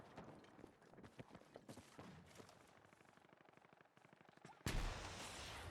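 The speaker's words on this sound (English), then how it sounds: "Like I'm shooting at that tank from this far away." Video game gunfire in Battlefield aimed at a distant tank: rapid bursts of shots rattle on and off, then a sudden loud blast of sustained fire near the end.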